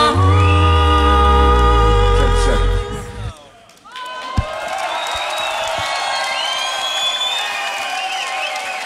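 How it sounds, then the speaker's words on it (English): Crowd applause and cheering at the Grand Beatbox Loopstation Battle 2017 quarter-final follow the end of a loud looped beatbox track, with a dense wash of clapping, whoops and shouts. "One more round of applause."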